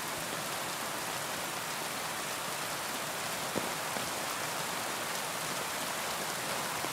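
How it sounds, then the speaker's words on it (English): Steady, dense rain hisses continuously in the medieval open world of the video game Kingdom Come: Deliverance II, an even wash of falling drops with no voices. "You don't mind the rain like this?"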